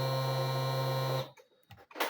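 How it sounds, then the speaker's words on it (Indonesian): Fuel pump on a 2019-2020 Honda Genio scooter priming with the key switched on: a steady buzzing whine for about a second, then cutting off into near silence with a few faint clicks. "bunyi full pumpnya normal."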